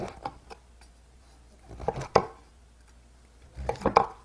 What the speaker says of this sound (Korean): 적당한 크기로 이렇게 잘라줘요